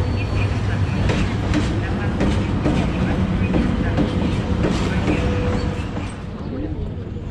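A passenger train pulls into a station platform on track three on the way from Krasnodar to Sochi. It makes a loud continuous rumble with rhythmic clicks of wheels over rail joints, and people talk nearby.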